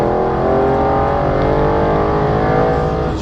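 A modified 2018 Audi RS7 running on E85 fuel accelerates hard, its engine giving a loud, continuous, close roar with a climbing pitch from start to finish and no talk.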